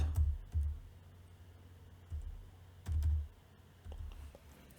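Keys struck on a computer keyboard while code is typed, coming as a few separate bursts of soft clicks with short pauses between them, close by and otherwise quiet, with no talking.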